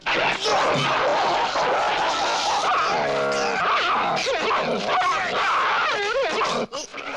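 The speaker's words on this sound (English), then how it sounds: "when the dog came running up the camera for the neck hit" A dog charges at the camera and attacks in a scene from the 1977 horror film The Hills Have Eyes, barking and growling loudly amid a dense, busy mix of other film sounds.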